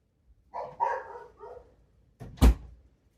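A dog barks indoors in a few short, mid-loud bursts, followed by a sharp thud like a door closing.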